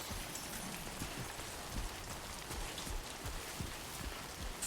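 Timefall rain in the video game Death Stranding 2 pours as a dense, even downpour, with raindrops spattering across surfaces in a steady close hiss and no talk.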